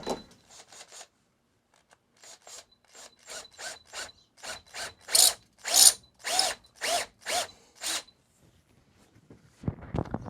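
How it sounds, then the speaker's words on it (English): Power tool chamfering the threads of a cut stud in a series of short, rasping grinding bursts, a few quick ones, then a steadier run of about a dozen growing louder, close by with quiet gaps between. "I'm going to run this tool over it, which will chamfer the threads."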